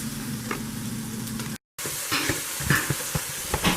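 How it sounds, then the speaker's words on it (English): Green peppers sauté in butter in a pan, giving a soft, steady sizzle broken by a brief dropout and a few small clicks and taps of stirring. "We got the green peppers sauteed in just some butter in the pan"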